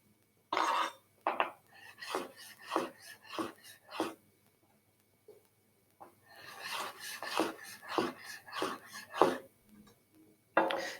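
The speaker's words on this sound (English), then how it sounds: "going to slice strawberries using the rocking motion" A knife slicing strawberries on a cutting board with a rocking motion, two runs of rhythmic close chopping taps separated by a quiet pause.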